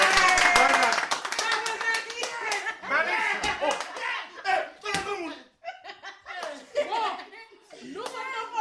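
An audience at a live talk-show broadcast applauds, with dense, close clapping that swells and fades among laughter and overlapping talk.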